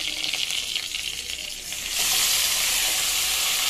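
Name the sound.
onions and lentils frying and being stirred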